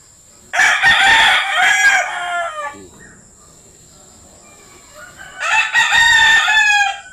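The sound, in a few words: rooster crowing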